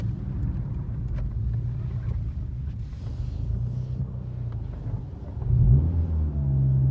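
A 30-year-old Mitsubishi Evo 1 with off ignition timing drives along a road in second gear, its engine giving a steady, low, droning rumble mixed with wind buffeting; the revs rise sharply near the end.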